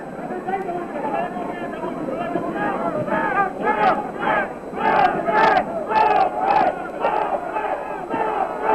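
Boxing arena crowd during the Sugar Ray Leonard vs Wilfred Benitez fight, a dense roar of cheers and shouts rising in repeated surges, with excited calls cutting through the steady, close, loud hubbub.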